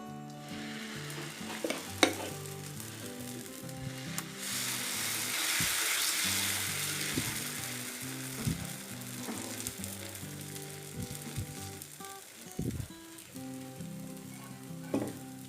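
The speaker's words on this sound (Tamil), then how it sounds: "அடுத்து ஒரு முருகலை ஒரு நெய் தோசை சுட்டு எடுத்துக்கலாம்." Ghee dosa batter sizzles and crackles on a hot pan, a steady close frying hiss broken by occasional scraping and spatula taps, with no talking.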